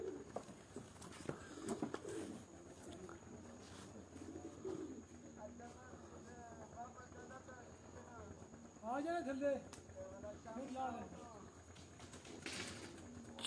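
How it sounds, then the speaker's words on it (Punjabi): Pigeons coo softly at a Punjab pigeon-flying competition as a few birds come in. The low throaty cooing is faint and partly masked by people talking nearby. "ਚਾਰ ਕਬੂਤਰ ਆਏ ਨੇ ਜੀ।"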